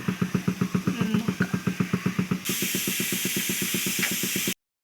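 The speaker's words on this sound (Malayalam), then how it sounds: "അപ്പം കുറേ നേരമായിട്ട് എൻ്റെ കുക്കർ ഇവിടെ അടിച്ചുകൊണ്ടിരിക്കുകയാണ്" A pressure cooker cooking payasam lets out rapid rhythmic puffs of steam, its weight rattling steadily. A continuous hiss joins midway, and the sound stops abruptly near the end.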